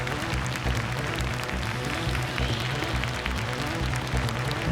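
Audience applause at a Japanese stage greeting for the PSYCHO-PASS Sinners of the System world premiere screening, honoring director Shiotani and voice actors Seki and Nojima; dense, steady crowd clapping fills the whole stretch at a constant level.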